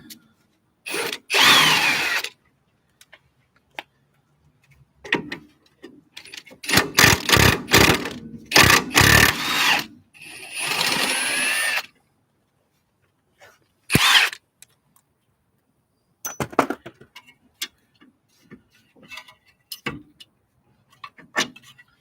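Power tool, likely an impact wrench, zipping off the brake knuckle nuts during a brake rotor job, heard as several short loud bursts separated by quiet gaps and faint clanks.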